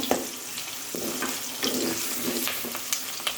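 Chopped onion and garlic sizzle and crackle in hot oil in a pan as the base for homemade fried rice, with a steady close hiss broken by occasional stirring scrapes, no talk.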